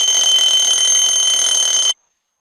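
An alarm clock rings with a loud, continuous electronic tone, close and unbroken for about two seconds, then stops abruptly into silence.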